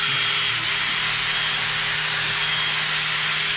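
Steady, continuous abrasive rubbing from hand sanding a Mercedes W204 headlight lens with a pad from a restoration kit, a dense even scratching that runs unbroken and fairly loud throughout.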